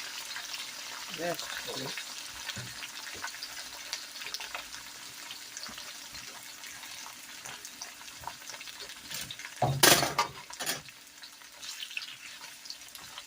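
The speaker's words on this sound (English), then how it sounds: "we're going to start adding the green peppers and onions and things and get this going on" Green peppers and onions fry in a hot pan with a steady low sizzle, then a louder burst of scraping and stirring near the middle; a voice talks over parts of it.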